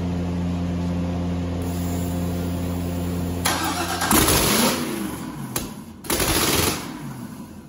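A GM LS V8 engine running on an engine stand cranks and sputters with sharp mechanical bursts, catching and revving up loudly in uneven surges.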